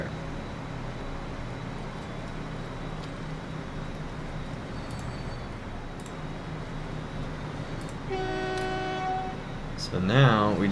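A train runs in the Transport Fever game, a low rumble under a steady wash of sound, with a train horn sounding near the end.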